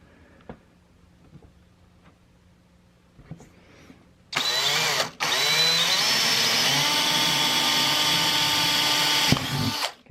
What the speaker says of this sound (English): Should drill through that like butter.